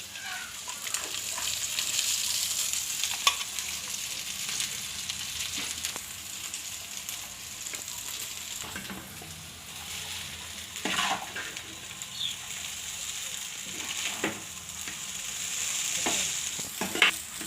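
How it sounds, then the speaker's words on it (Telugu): Noodles with egg sizzle and fry in a home kitchen pan, stirred with a utensil in repeated scraping strokes throughout, a steady close frying hiss with brief clinks. "ఇందులోని ఇప్పుడు ఈ నూడిల్స్ వేసుకోవచ్చు"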